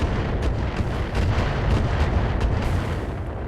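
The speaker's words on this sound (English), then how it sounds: "that sounds like a lot of missiles" A loud, continuous barrage of missile launches in the mech combat game RogueTech BattleTech, overlapping booms and rushing blasts forming a dense roar with repeated sharper bursts throughout.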